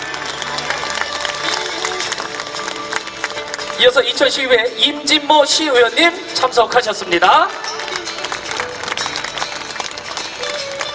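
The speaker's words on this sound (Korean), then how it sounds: "우리 중군분들도 이렇게 박수를 쳐주시는데 계속 박수를 쳐주셔야 됩니다" Applause from the audience at a ginseng festival opening ceremony swells into a burst of clapping midway, under and between an announcer introducing officials over a PA.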